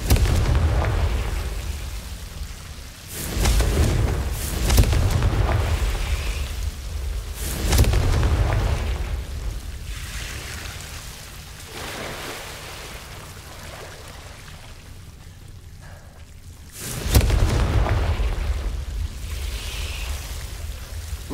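Confringo spell blasts in Hogwarts Legacy, several deep booming explosions spaced seconds apart, each with a rumbling tail that fades into a low ambient bed.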